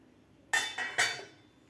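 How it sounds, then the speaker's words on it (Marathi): A metal lid lifted off a cooking pan of Dhaba-style kaju masala gives three quick clinks and scrapes in a quiet kitchen, sharp and close, fading after about a second. "आता आपण झाकण काढून बघूया"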